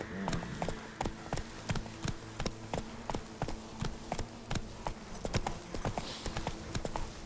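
Horse hooves clip-clopping in a steady galloping rhythm in the video game The Witcher 3: Blood and Wine, close and continuous, with faint game ambience beneath.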